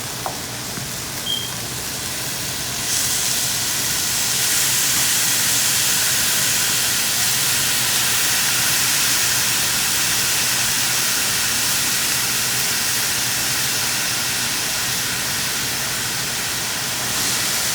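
Minced keema meat hitting a hot pan, a steady loud sizzle and hiss that swells after the first few seconds and holds evenly to the end.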